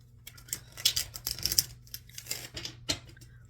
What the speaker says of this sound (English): I am shuffling for the Aries Collective and their greatest good